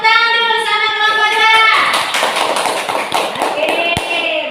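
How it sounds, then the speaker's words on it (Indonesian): Applause for a student group in an Indonesian fourth-grade Islamic education classroom: a teacher's voice first, then a dense, steady wash of many hands clapping that fills the rest of the clip. "kasih tepuk tangan dulu sama kelompok"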